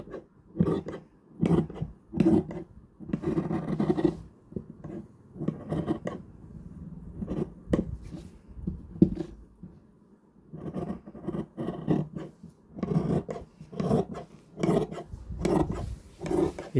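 Scissors cut through kurta fabric, giving rasping, crunching snips in irregular bursts with short pauses between them, close and clear with no talking.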